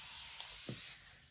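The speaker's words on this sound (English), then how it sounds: "I'm going to spray it with some water." A spray bottle mists water onto a chalk stencil transfer laid flat for a dog sign, giving a steady close hiss of about a second that cuts off abruptly.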